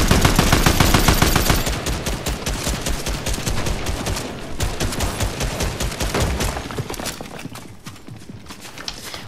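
Rapid bursts of gunfire in a video game ring out in dense, crackling volleys, loudest at first and then continuing in quick repeated shots that thin toward the end.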